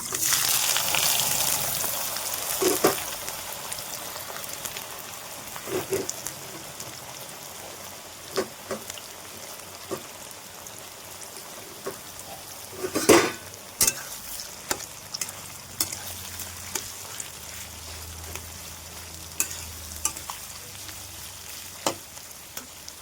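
Chopped onions hitting hot oil in a home kitchen pan, sizzling steadily while being stirred, with sharp scraping and clinking of the spoon against the pan at intervals.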